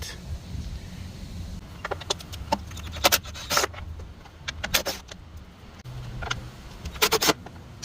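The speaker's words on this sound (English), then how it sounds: "we'll need to remove these 4 8mm bolts. So let's go ahead and get that out." Four 8mm bolts coming off a Troy-Bilt Bronco lawn tractor, with scattered metallic clinks and jangles of a tool and loose hardware over a low rumbling background, close by with uneven pauses.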